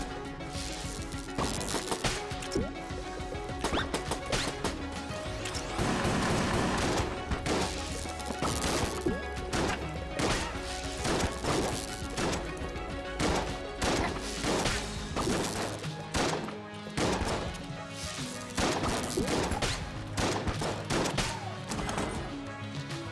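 Rapid gunfire from various guns in the video game Enter the Gungeon, sharp cracks and bursts firing in quick irregular rhythm over a busy game soundtrack, loud and close, with a denser volley partway through.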